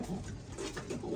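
Wedding pigeons in a loft, soft low cooing close by, steady and continuous with a faint rustling room background.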